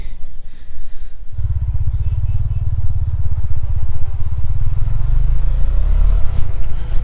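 A Bajaj Dominar motorcycle fitted with a new Rolon X-ring chain and sprocket, on a test ride: after a brief quiet start, a loud, close, steady low engine rumble with a pulsing beat continues to the end.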